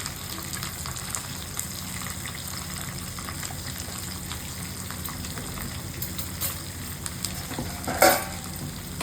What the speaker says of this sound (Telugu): వేసి ఒక్కసారి అట్లా యాగనిచ్చి వంకాయ నలగకుండా చూసుకోండి